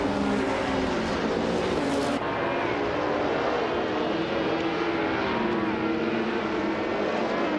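Several race cars in a racing video game roar off the starting grid together, a dense, loud and steady wash of engine noise that holds throughout with no break.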